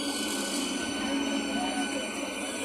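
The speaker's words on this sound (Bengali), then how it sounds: "কথা বলতে বলতে ট্রেন চলে এসছে।" A train pulls into a station with a steady, loud rumble and a high metallic wheel squeal that runs without a break. A faint murmur of voices sits underneath.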